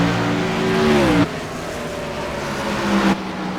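Stock race cars in a racing video game at Richmond, running three wide across the start-finish line: loud engine roars sweep past in two successive passes with falling pitch.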